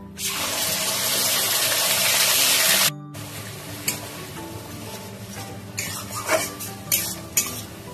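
Onion paste dropped into hot ghee with whole peppercorns for mutton rezala, a loud burst of sizzling that cuts off sharply, followed by quieter clinks and scrapes of a spoon stirring in the pan.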